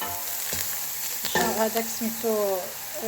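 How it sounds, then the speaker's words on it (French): Leek hits hot oil in a pot and crackles into a busy sizzle, with a few stirring scrapes and a voice speaking briefly in the background. "Dans la gamelle, tawa, je mets un petit peu de l'huile. Maintenant, je mets le poireau à faire revenir."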